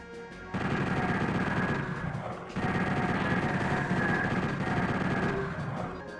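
Repeated shotgun blasts and combat noise from the first-person shooter Doomed Space Wars, loud and dense, continuing almost without pause apart from a brief break.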